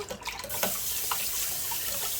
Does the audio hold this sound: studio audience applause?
no